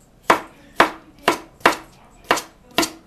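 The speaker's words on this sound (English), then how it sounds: "Cut it lengthwise in half and do the same thing with the zucchini." A kitchen knife chops through zucchini on a cutting board in six crisp, evenly spaced strokes about half a second apart, close and clear with no talking.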